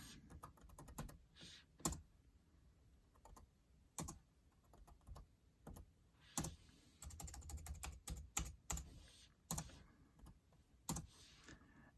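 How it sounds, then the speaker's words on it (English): Fast typing on a computer keyboard while entering a calculation, with irregular clusters of sharp close key clicks separated by short pauses, quiet and without talk. "So I'm going to go to my calculator screen and type that in."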